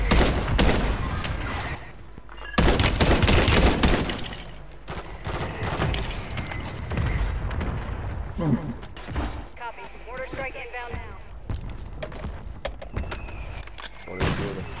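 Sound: gunfire in Call of Duty video game

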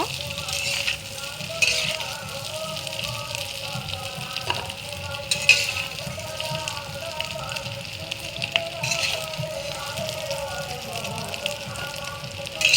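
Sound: paneer frying in a pan

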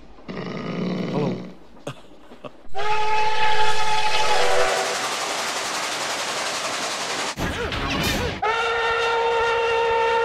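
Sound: steam locomotive whistle

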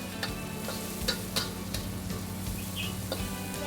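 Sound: stir-frying chili and onion for eel noodles

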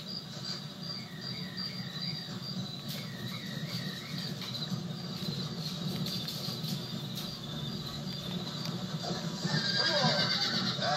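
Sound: horse neighing in Red Dead Redemption video game

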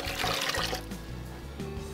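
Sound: pouring cooking water into blender

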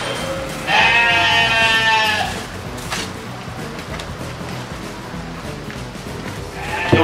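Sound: goats bleating in zoo cages

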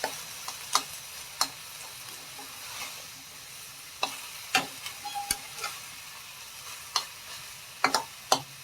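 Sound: stir-frying pork with egg and mayom leaves in a pan

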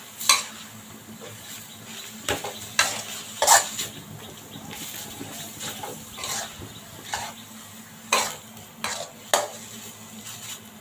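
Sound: minced pork being stirred and scooped in a pan

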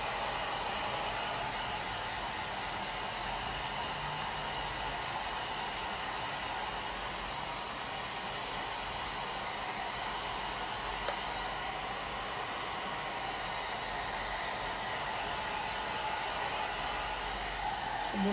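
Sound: hair dryer drying painted plaster pieces

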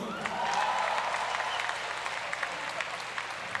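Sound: audience applause at Java Jazz Festival concert

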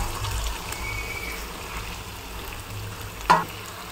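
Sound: chicken liver frying with onions in a pan

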